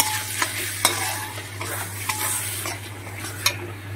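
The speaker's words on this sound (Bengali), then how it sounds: "ডুমুরের সাথে মশলাগুলো ভালো করে কষিয়ে নেব আরও বেশ কিছুক্ষণ" Boiled mashed figs and spices being stirred and fried in a pan: a soft continuous sizzle with scraping from a spatula and occasional sharp clinks against the metal, close and without voices.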